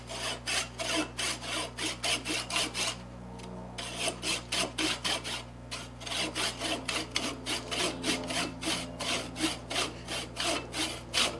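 A hand saw cuts through wood in long, rhythmic back-and-forth strokes, close and loud, with a brief pause partway through before the sawing resumes steadily.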